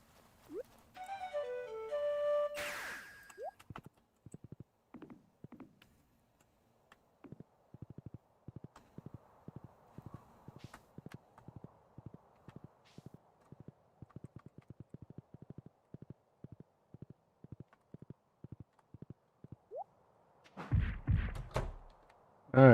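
Horse hooves clip-clopping in the Stardew Valley farming video game, a long run of steady, evenly spaced light knocks at moderate volume, with brief game sound effects at the start and end and no talking.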